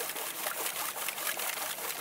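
Water sloshes in a gold pan rocked back and forth while stratifying material, producing a continuous trickling, splashing wash with rhythmic surges, close and fairly loud, with no talking.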